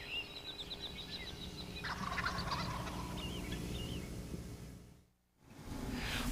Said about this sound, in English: Occasionally he throws his head out straight and gobbles for all he's worth